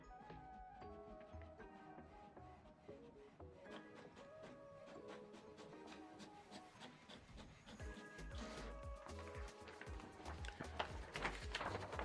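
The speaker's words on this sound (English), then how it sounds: "So now it's printing out test page." An HP Smart Tank 5105 inkjet printer runs a test page, with rhythmic mechanical whirring, clicks and paper-feed rasping that grow louder toward the end, heard close and at low volume.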